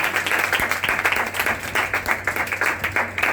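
A church congregation claps together in a dense, steady burst of many hands, loud and close, with a faint murmur of voices underneath.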